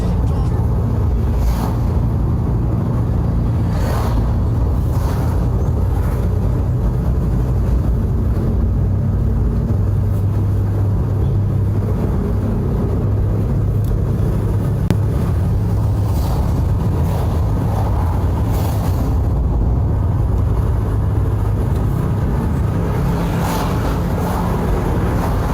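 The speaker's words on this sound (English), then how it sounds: "let's hear what the traffic is actually like out there on this rainy Wednesday" Road traffic on a rainy Wednesday morning in Grenada, a continuous wet rumble and hiss of passing vehicles with wind buffeting the microphone throughout.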